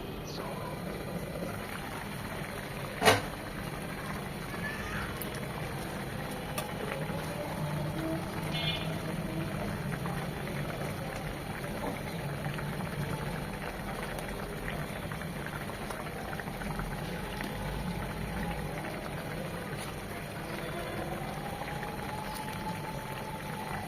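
Shing fish curry with sponge gourd simmers in a pan, giving a steady, moderately quiet bubbling boil that runs evenly throughout, with one brief sharp knock early on.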